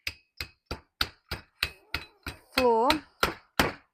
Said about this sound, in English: I do have a hammer.